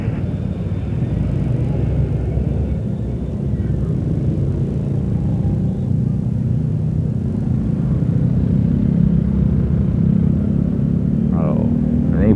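Heavy road traffic of cars and motorcycles on the Rancaekek–Ciamis route during the mudik homecoming rush, a continuous loud engine rumble close by with no breaks.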